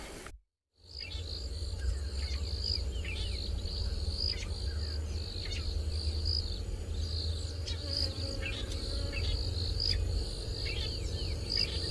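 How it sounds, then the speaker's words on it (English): Dawn chorus in the Kruger bush of South Africa: a steady layer of crickets and insects trilling under repeated bird calls and chirps, continuous and fairly close, with no talk after a brief dropout at the start. "let's listen to the last of the dawn chorus"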